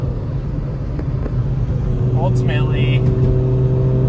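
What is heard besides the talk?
Lexus IS300 turbo car accelerating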